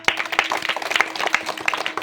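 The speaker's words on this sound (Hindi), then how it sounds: "ताली बजा दो एक बार जरा।" Several people clap their hands in an uneven, lively burst at close range in a village setting, with faint voices beneath.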